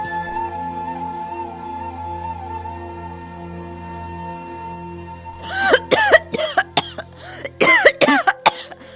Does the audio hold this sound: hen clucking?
no